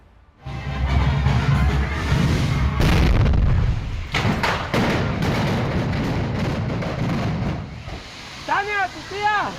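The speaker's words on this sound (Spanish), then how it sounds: "La falta de precaución con el uso de pirotecnia provocó esta explosión" A loud booming burst of fireworks erupts at a celebration, followed by crackling, hissing blasts and commotion, with voices shouting amid the noise.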